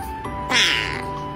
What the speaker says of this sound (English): What is that meow?